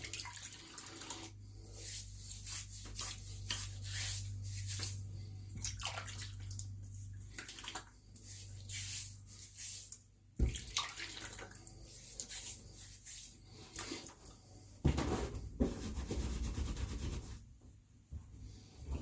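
Tap water running to wet a razor head at a sink, a steady splashing hiss with rubbing and brief knocks, fairly close and quiet.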